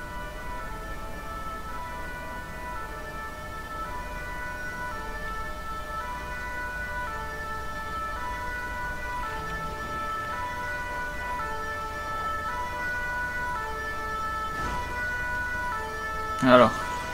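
A fire engine siren in the GTA LSPDFR video game plays as the fire crew arrives, the steady wailing tones running throughout at moderate loudness over a low rumble of ambient game noise.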